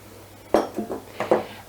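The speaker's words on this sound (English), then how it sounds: "I'm gonna just add my dry into the wet mix" Dry brownie ingredients go into a bowl of wet vegan batter: a couple of close, bright knocks and clinks of a utensil against the bowl, separated by a softer thud, in an otherwise quiet room.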